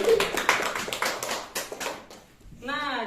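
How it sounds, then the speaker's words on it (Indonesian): Classroom applause for two pupils: a short burst of fairly close hand clapping with sharp, rapid claps that quickly thin out, followed by a voice speaking. "tepuk tangan buat Agus sama Rajail."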